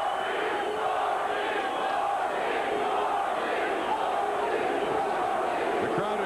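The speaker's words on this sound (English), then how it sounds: "The crowd is chanting for Dorsey" Boxing arena crowd chanting for fighter Troy Dorsey during his bout with Jorge Paez, a dense, rhythmic roar of voices swelling and rolling continuously with opposing fans mixed in.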